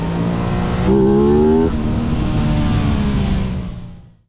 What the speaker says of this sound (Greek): Κάνει και πολύ ωραίο ήχο η εξάτμιση